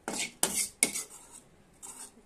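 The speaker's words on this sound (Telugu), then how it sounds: "ఇదంతా కర్రీలో కలిపేసుకుంటాను." Gongura is stirred into a mutton head curry in a pot with a metal spoon, giving several distinct scraping clinks against the pot with short pauses between them, close up and with no one talking.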